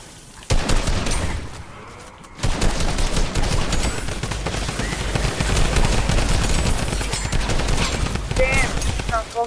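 Rapid gunfire from shooting in the Fortnite video game, a Horde Rush mode match, with dense bursts and volleys running almost continuously and loudly after a brief quiet start, mixed with game effects and some voices.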